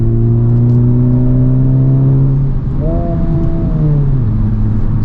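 A 2023 Honda Civic Type R accelerating hard in fifth gear: a loud, close, droning engine note climbs steadily in pitch, dips briefly at a gear change midway, then pulls on again. No one speaks.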